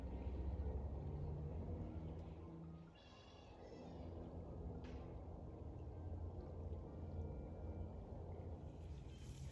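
A full, fast-running creek rushes steadily nearby as a broad, continuous wash of water noise that holds at an even level throughout, with a faint brief high tone partway through.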